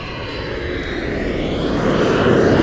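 Steady, loud cabin roar inside a Qantas Airbus A380 cruising at 39,000 feet, a broad continuous engine and airflow rumble that swells slightly toward the end, no voices.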